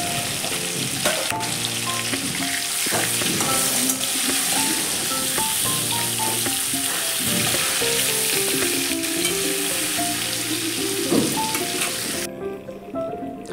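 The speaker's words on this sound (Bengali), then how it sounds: "মাছটা একেবারে ভাজা হয়ে গেছে" Fish fries in hot oil in a pan, a loud, steady sizzle and crackle that runs without pause, with soft stirring or clinking underneath.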